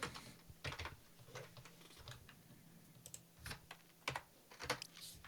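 Typing on a computer keyboard, with soft, uneven clusters of key clicks up close and short gaps between bursts.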